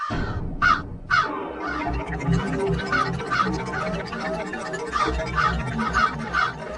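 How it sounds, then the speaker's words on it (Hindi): A crow caws repeatedly in a steady series of harsh, loud calls over a busy background of other birds and low rumbling noise, with no talking. "सुनने में ये कौवे की आम सी काव काव लग रही है"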